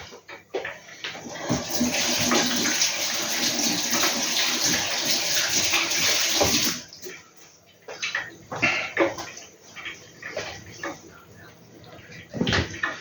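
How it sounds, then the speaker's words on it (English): Running tap water pours into a sink while hands are washed in a home kitchen during pakora cooking, a loud steady splashing stream for several seconds, then the tap shuts off, leaving scattered clatters and knocks as a voice briefly speaks. "Let me just wash my hands again."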